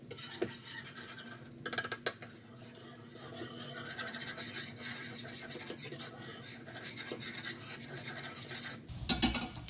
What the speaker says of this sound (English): We're just trying to get a light saute on the garlic.